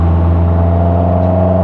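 The naturally aspirated engine of a Westfield Se NA R-T sports car holds a loud, steady drone with strong harmonic tones, sounding close and sustained with no voices over it.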